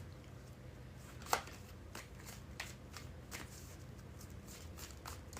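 Playing cards are shuffled quietly in a series of soft riffles and taps, with one sharper snap near the start.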